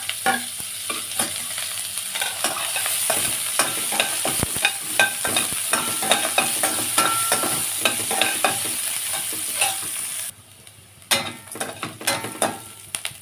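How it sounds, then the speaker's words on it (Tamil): Chopped onion with dried chillies sautés in a pan, a steady sizzle broken by frequent scraping and stirring strokes of a spoon, which continue after the frying noise briefly drops near the end. "வெங்காயம் நல்லா வதங்கி வந்திருக்கு பாருங்கள்"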